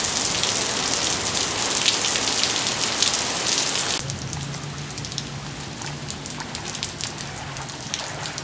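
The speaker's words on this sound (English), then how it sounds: "I like that rain." Heavy rain pours steadily onto a surface outside, loud and dense with close patter; after about four seconds it softens into a lighter, more even fall with scattered drops.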